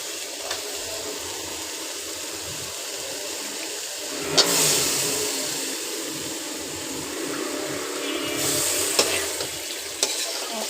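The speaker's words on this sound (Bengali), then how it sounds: "এখন দিয়ে দিব মুরগির মাংস।" Chicken meat tipped into a pan of oil and browned onions, erupting into loud sizzling frying with stirring scrapes and two sharp flare-ups, close up.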